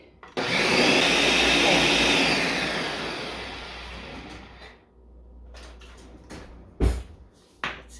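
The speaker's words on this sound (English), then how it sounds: "I'm gonna put the lid back on and we're gonna blend it up for a couple of minutes" A Ninja blender whirs loudly as it purees a thick homemade cheese sauce, a steady motor roar that slowly eases, then stops, followed by a few sharp clicks and knocks near the end.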